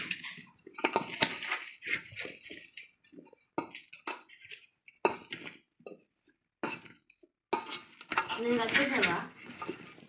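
Mango pickle ingredients are mixed by hand in a bowl up close, with intermittent clinks, scrapes and squishy stirring in short bursts separated by quiet gaps.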